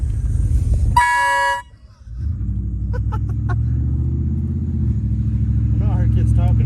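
A truck horn gives one loud, short, close blast, followed by a steady, rumbling engine idle, and voices come in near the end.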